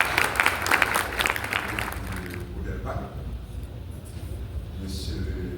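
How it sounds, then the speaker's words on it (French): Audience applause at a certificate ceremony for 180 children from Cité Soleil, Haiti, held with UNAIDS and UNHCR: loud, dense clapping for the first couple of seconds, then thinning and fading beneath a low murmur of voices and room hum. "Sous vos applaudissements"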